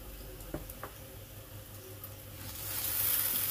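Spoonfuls of ghee hit a hot pan of frying flattened rice (chirer polao, poha), giving a couple of soft clicks, then a steady faint crackle that swells into a louder hissing sizzle toward the end.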